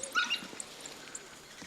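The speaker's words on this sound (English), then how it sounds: "Pups know it's feeding time." African wild dog pups at feeding time give short, high yips and whimpering squeaks, several brief calls clustered near the start and scattered through the rest, fairly faint over a hissy outdoor background.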